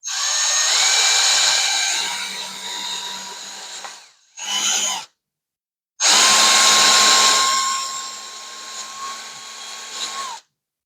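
A power drill enlarges screw holes in the hinge of a pull-out kitchen in a VW California van, whining loudly and close in long bursts with a short blip between and a brief pause before the last run.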